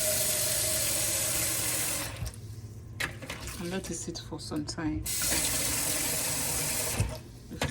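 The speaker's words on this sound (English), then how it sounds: "I will turn on the warm water" Warm water runs steadily from a kitchen tap while cooking ukwa porridge with bitter leaf, a continuous loud splashing flow that pauses briefly midway before resuming, with a person talking over it.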